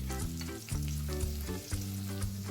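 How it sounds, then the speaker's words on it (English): Garlic and ginger pieces frying with cumin seeds in a pan of hot oil, a dense continuous sizzle with crackling bursts and a low droning hum underneath, near and steady. "After some time, add the ginger pieces and stir."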